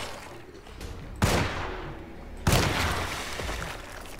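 Two loud, close gunshots ring out about a second apart in the 2024 Unreal Engine remake of Alone in the Dark, each with a long echoing tail over a dark ambient background.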